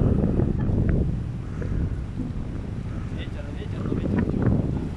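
Warm wind gusts steadily near water, a loud rushing buffet across the microphone with surging low rumble throughout, while people talk under it.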